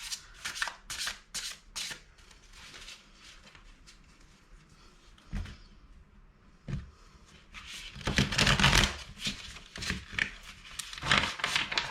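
Oriens Animal Tarot cards are shuffled in quick riffling bursts, followed by quieter pauses and softer handling as cards are pulled, then another long stretch of busy shuffling, all close and with no talk.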